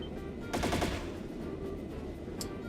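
A burst of rapid gunfire from an orbital gun in the video game Trails in the Sky, about a quarter second of dense shots followed by a faint later crack against a steady game background.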